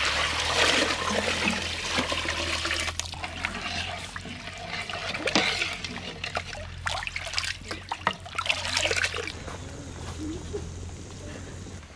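Water is poured into a cooking pot with ground spices and pepper for country-chicken pulao. It makes a steady trickling, splashing sound for about twelve seconds amid kitchen background noise and faint voices.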